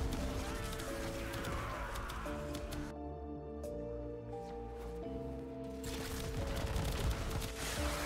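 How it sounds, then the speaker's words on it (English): Yareli's secondary-fire weapon shots in the Warframe video game, crackling bursts of rapid gunfire over a steady musical score, easing off briefly in the middle and then returning dense and loud. "now I shot the secondary fire again, which does relatively no damage, and it just obliterated enemies"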